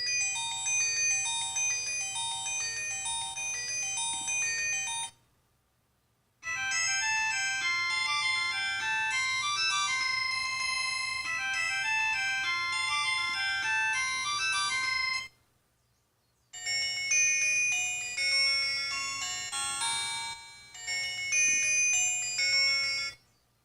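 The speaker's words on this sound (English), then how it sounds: "And when it does that, you have these different ringtones." Several electronic ringtone melodies from a G5 Sports smartwatch play one after another, bright chiming tones separated by short silences, fairly loud and without talk.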